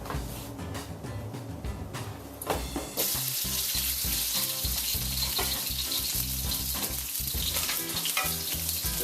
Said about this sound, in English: Your stir frying.